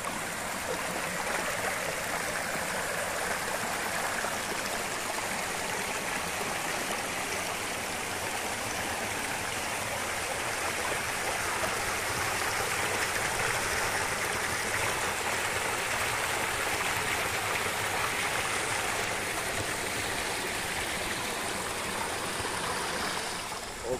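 Clear stream water runs steadily through overgrown scrubland, a continuous near rushing and babbling that fills the whole stretch without pause, no voices over it.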